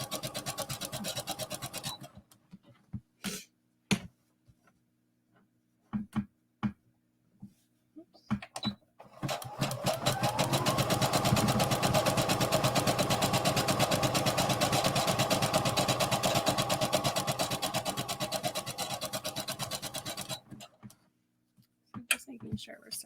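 A sewing machine stitches a sports bra seam around a curve, starting with short stop-start bursts of needle chatter, then running in one steady, fast whirring stretch of about ten seconds before stopping.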